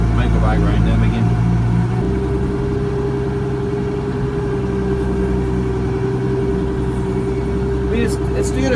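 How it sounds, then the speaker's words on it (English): Heavy tractor pulling a roller across a rutted field, its engine droning steadily up close with a deep low rumble throughout. "It's tractor's heavy enough to kind of push in the old ruts and let the roller do the rest."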